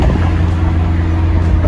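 A McLaren sports car drives through Chicago, its engine and road noise making a loud, steady, low droning rumble heard from inside the cabin.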